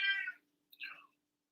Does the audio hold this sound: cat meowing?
yes